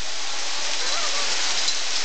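Hail falls during a 2011 hailstorm as a dense, continuous rush of pattering impacts on surfaces, loud and even with no pauses, sounding close and enveloping.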